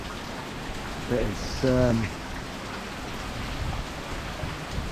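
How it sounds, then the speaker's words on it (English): Heavy rain falls during Hurricane Ian, a steady, dense hiss throughout, while a voice speaks briefly near the start. "It's been raining all day."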